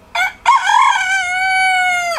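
A rooster crows loud and close, a short opening note followed by a long drawn-out call, heard alone on a farm near an old barn.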